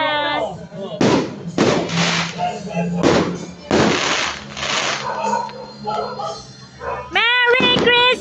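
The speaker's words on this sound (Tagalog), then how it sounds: "May fireworks pa rin." Fireworks bursting on Christmas night, several loud broadband cracks and bangs in quick succession, close by, with a dog barking and yipping between them and a voice briefly heard.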